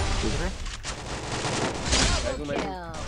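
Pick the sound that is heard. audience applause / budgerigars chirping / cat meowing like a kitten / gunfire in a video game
gunfire in a video game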